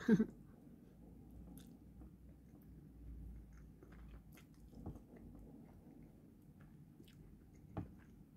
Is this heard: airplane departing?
no